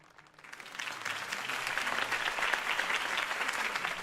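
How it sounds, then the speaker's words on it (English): Crowd applause at a campaign rally for Harvey Dent in Batman: The Telltale Series, rising quickly from quiet into sustained, evenly dense clapping from a large audience. "If only Mr. Wayne, my campaign's largest backer, could have heard that applause"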